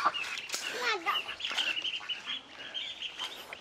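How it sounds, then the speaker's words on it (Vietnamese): Ducks quack in a home garden, a busy cluster of nasal calls overlapping close by, mixed with brief voices and rustling in the yard. "Tôi ra bắt vịt em ạ."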